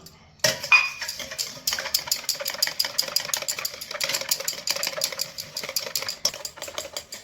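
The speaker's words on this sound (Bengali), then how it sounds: "ডিমের সঙ্গে তেল আমি আবার দশ মিনিট ফাটিয়েছি অনবরত ফেটে যেতে হবে" Eggs and oil are whisked by hand for a cake batter, a fast steady run of light metallic clinks against the bowl that starts after a brief pause and continues without letup, fairly close and with no voices.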